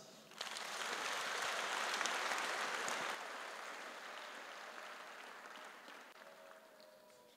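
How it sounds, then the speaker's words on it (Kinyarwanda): Congregation at an ADEPR church service in Nyarugenge applauding. A steady wash of many hands clapping swells in, holds for a few seconds, then eases to a softer, continuing patter, heard from a distance without speech. "ariko muhe Imana amashyi."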